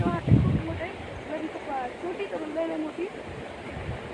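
A small stream runs full of water after rain, a steady rushing wash heard outdoors beneath people talking.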